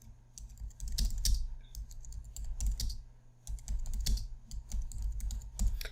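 Quick bursts of close typing on a computer keyboard, with irregular clusters of key clicks separated by short pauses and no voices over them.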